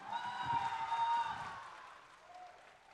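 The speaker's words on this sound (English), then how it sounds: "Sounds like there's a lot of fans in the crowd." Debate final audience at a university hall applauding and cheering, a fairly quiet, distant wash of clapping that swells briefly then fades away.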